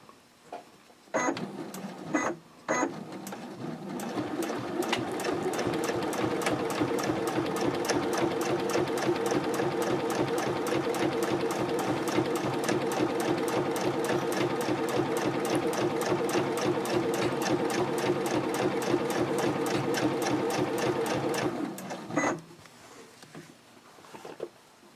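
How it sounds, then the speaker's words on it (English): A sewing machine stitches the fabric of an Omnia pouch, running at a steady rapid rhythm for about twenty seconds after a few stop-start taps, then slowing to a halt, close and fairly loud. "you'll pivot and you'll sew 1/8 of an inch away from this folded edge right here"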